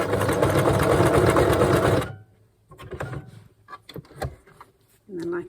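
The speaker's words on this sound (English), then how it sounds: "you want to sew one end, do forward and backward, just to start it off" A sewing machine runs loud and close for about two seconds of steady stitching, then stops, followed by scattered clicks and handling noises and a brief final whir, as a seam end is locked by sewing forward and backward.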